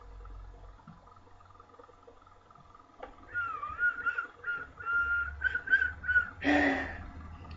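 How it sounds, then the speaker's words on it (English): A series of short, warbling whistled notes rises and falls over a quiet background during online play of Titanfall, ending in a louder burst of noise. "Whistling."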